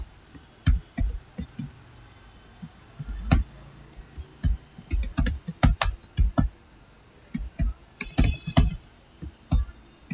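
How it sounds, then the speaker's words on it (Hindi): HTML code is typed into Notepad on a computer keyboard, producing close, crisp, irregular keystroke clicks in quick clusters with brief pauses. "तो ये एक नोटपैड है और इसमें मैं कोड टाइप करता हूँ HTML"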